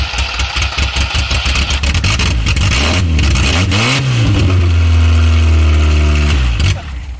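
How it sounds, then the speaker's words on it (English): A Ford Festiva rally car engine runs rough and close, with a pulsing uneven idle that rises into a sustained rev, then drops away abruptly near the end. "Hey, that ran pretty good for Smoke"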